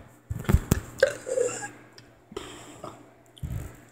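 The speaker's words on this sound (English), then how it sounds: "Normal burp." A person burps close to the microphone, a few short guttural bursts with wet mouth sounds in between, fairly loud against a quiet room.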